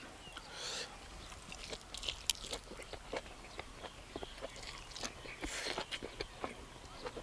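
Close-up crunchy chewing of banana root dipped in chili sauce, with rapid, irregular bites and crunches throughout and no speech.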